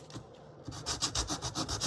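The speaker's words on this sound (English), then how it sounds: "And then out with your sanding block." A sanding block rubbed back and forth along the edges of a handmade craft storage box, a quiet rhythmic scraping of about seven close, even strokes.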